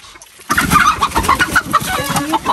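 A rooster being chased and grabbed lets out loud, close, agitated clucks in a rapid, uneven series that starts abruptly after a short quiet moment.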